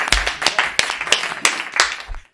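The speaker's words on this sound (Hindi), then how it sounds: "तालियों से स्वागत करिए।" An audience on stage at a comic poetry event gives a short burst of clapping to welcome a poet, a crisp patter of several claps that stops abruptly.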